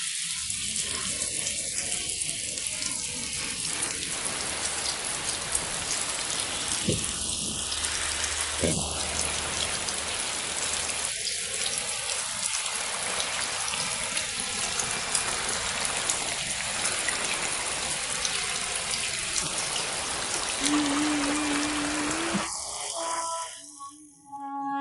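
Steady rain falls in a constant hiss throughout, a sudden downpour, with a few faint indistinct voices and knocks underneath.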